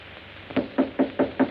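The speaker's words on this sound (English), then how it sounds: "Why did you knock?" Five evenly spaced knocks on a door in a 1936 film scene, firm and fairly close, with a steady rhythm and no talk over them.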